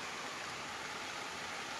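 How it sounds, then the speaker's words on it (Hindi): Heavy rain pours down outdoors near forested hills, a dense, even hiss of falling water that holds steady and unbroken throughout, with no talking. "देख बढ़िया वर्षा हो"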